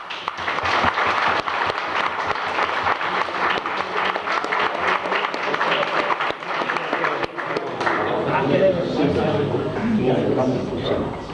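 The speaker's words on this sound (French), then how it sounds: "Voilà, je crois qu'on peut l'applaudir." An audience at a Bordeaux wine event applauds after a 2009 Shiraz is announced, with steady, dense clapping filling the room before it thins out under a voice as talking resumes.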